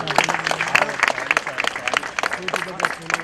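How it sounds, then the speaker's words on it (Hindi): A crowd at a Sardar Vallabhbhai Patel Jayanti celebration claps continuously, with distinct close claps standing out over the general applause and voices audible in the mix. "तालियां हो जाए, तालियां।"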